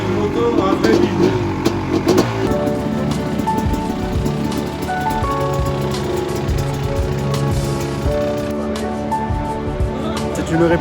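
Replica racing motorcycle built as a tribute to champion André Malherbe, its engine revving and holding a steady loud drone with repeated throttle blips, voices talking over it.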